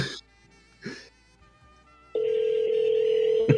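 An outgoing phone call rings through: after a few faint rustles and clicks, a loud, steady ringback tone starts partway through and holds unbroken to the end.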